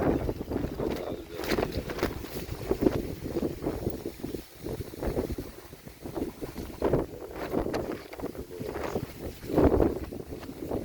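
Strong wind buffets the microphone at a lakeside carp fishing spot in loud, uneven gusts, a rough roaring rush that swells and fades throughout.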